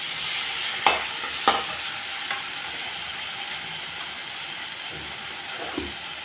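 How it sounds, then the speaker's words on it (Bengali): Spices and vegetables being sautéed in a pan for a spiced fish curry, a soft continuous sizzle broken by a few sharp clinks of a spoon stirring against the pan, close and moderately quiet, with no voices. "এই হালকা সবজির সাথে মশলাটাকে ভালোভাবে কষিয়ে নিলাম"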